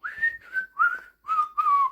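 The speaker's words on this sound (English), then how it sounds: "whistling a tune" A person whistles a tune, five clear, close melodic phrases with short gaps between them, the notes sliding and wavering.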